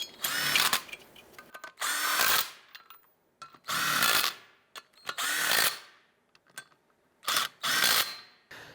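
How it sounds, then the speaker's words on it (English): Power tool snugging down rotor bolts on a 2003-2012 Chevy Colorado front wheel hub, several separate bursts of whirring and ratcheting, each a second or so long with short pauses between them, loud and close. "Let's go ahead and get our rotor bolts installed. Once we get these in, we're just going to go ahead and snug them down."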